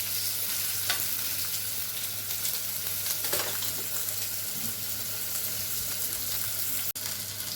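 Beef grilling gives off a steady, close sizzle and crackle that runs throughout at an even level, with a faint hum beneath.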